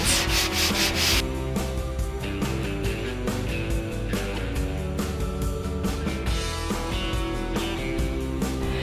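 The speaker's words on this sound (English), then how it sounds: "So I'm going to take my 220 sanding sponge" Steady back-and-forth rubbing of a 220-grit sanding sponge on the painted wooden top of a dresser, continuous scratchy strokes close to the microphone with no talking.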